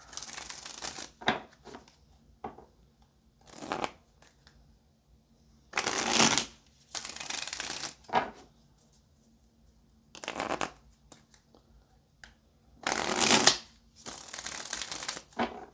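Tarot cards being shuffled in repeated bursts of riffling and flicking, each lasting about a second, separated by short quiet gaps under a steady low hum, close and moderately loud.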